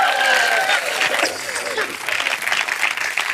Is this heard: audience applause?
yes